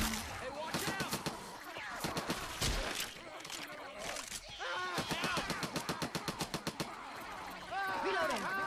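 Teammates' gunfire in Left 4 Dead 2 co-op crackles in rapid, rhythmic bursts of automatic shots, repeating throughout amid game effects and players talking.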